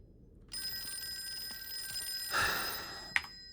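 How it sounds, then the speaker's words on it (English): Telephone ringing in the Call of Cthulhu video game, a steady metallic bell tone that starts suddenly and holds for about three seconds, with a louder noisy swell near the end and a brief sharp click. "It's always a phone call."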